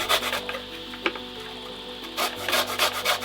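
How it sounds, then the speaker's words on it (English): A lemon is rubbed against a zester, raining zest into a blender, giving soft scratchy rasping strokes in short bursts with a pause in the middle. "we zest the lemon right in"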